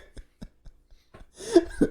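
A person coughs on a radio show, a few short dry coughs followed by a louder throat-clearing burst near the end, close and clear with no talking.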